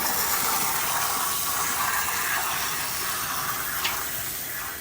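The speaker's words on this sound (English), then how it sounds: "Here, let me run the water." Steady gush of water running continuously from a house's water system, a broad even wash of sound that stays loud throughout with no talk.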